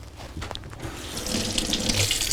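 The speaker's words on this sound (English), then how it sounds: "So go ahead and put some water on this and go ahead and begin to clean it really, really well." Tap water runs steadily into a sink while a dyed plastic flying disc is washed, a close, loud hiss that grows fuller and splashier as the disc goes under the stream.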